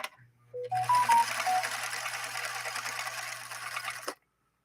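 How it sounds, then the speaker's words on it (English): A Viking 21E sewing machine runs a zigzag stitch, starting with a few brief tones and then settling into a steady, smooth mechanical whir with a low hum that stops abruptly after about four seconds. "So here goes a zigzag, and then we'll jump into the cam stitches right after that."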